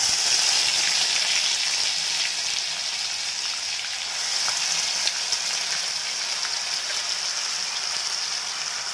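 Spices with onion, ginger and garlic paste frying in a hot pan, a steady bright sizzle that stays loud and even throughout, with no voices.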